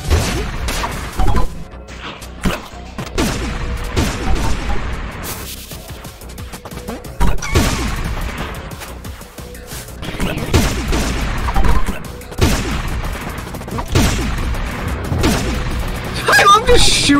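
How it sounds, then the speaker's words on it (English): Cartoonish gunshots and crashing impacts ring out as robots are shot in the video game Pizza Tower, arriving in rapid repeated bursts over busy game music and effects. "I love just shooting them!"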